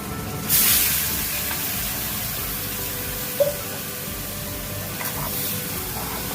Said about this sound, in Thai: นี่ค่ะเราจะใส่หนังหมูลงไปนะคะ